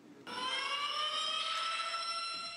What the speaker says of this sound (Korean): 교전 시작을 알리는 사이렌이 울리자 치열한 전투가 시작됩니다